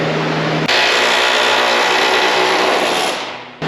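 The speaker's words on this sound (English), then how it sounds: "So you kids can see what I'm doing here with our air chisel" An air chisel cuts metal on a Ford F100 in a loud, harsh, continuous burst of rapid hammering. It cuts off sharply near the end.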